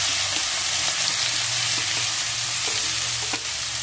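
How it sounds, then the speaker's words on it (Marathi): Cumin and finely chopped onions frying in a pan for egg masala, a steady, close sizzle with faint stirring scrapes throughout and no talk. "जिरं घालते अर्धा चमचा, इथं 3 कांदे घेतले मी बारीक चिरून।"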